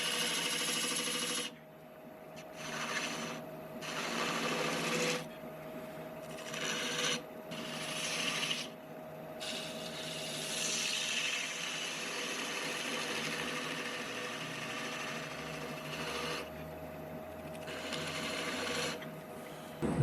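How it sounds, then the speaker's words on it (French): Sanding a large wooden vase by hand, making sustained rasping, rubbing strokes in long passes broken by short pauses, close and steady with a faint machine hum and no talk. "Donc, le ponçage est fait."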